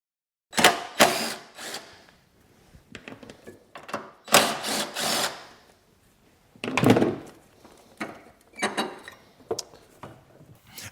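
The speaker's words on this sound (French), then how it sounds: "on prend une visseuse à percussion et une douille de 10 mm pour retirer les deux boulons" Impact driver with a 10 mm socket removing bolts from a car's fuel vapour purge solenoid, several loud rattling bursts of hammering with quieter mechanical clicks between them, close by.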